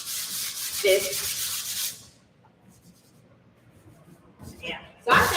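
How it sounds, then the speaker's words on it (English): Hand sanding of a surface before painting: a steady, close abrasive rubbing runs for about two seconds, then fades into quiet, with a brief scratchy stroke near the end; a voice speaks over the start. "then I'm going to come over here and start sanding"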